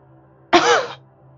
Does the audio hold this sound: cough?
yes